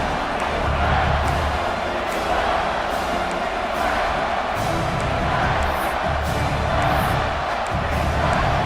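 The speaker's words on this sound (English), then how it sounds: "This dog crowd is off the leash, and they are coming after them, bringing noise on 3rd down." A stadium crowd cheers in a college football video game of Georgia versus Alabama on third down, a loud, sustained roar that swells in waves, with an announcer's voice faintly beneath it.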